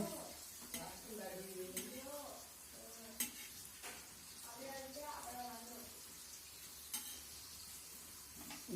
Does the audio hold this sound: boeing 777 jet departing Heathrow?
no